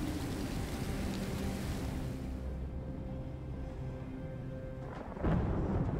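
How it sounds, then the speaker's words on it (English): A thunderstorm in the video game Detroit: Become Human: a steady, dense roar of rain and rolling rumble that thins out midway, then swells again with a sudden heavy crack near the end. "Ooh, thunderstorms are never good."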